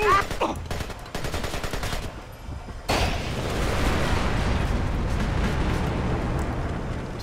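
In the video game Splinter Cell: Conviction, a burst of rapid gunfire gives way to exploding crates, a loud blast and a long, roaring rumble of explosions that stays dense and heavy.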